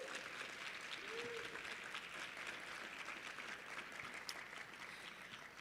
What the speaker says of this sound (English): May we please give those people a round of applause